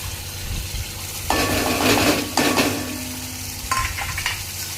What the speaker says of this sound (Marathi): आणि जो मसाला बारीक केलाय ना मी तो मसाला टाकते याच्यात.